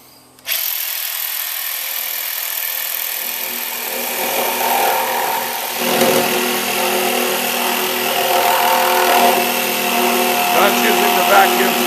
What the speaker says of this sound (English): We have to jigsaw it out.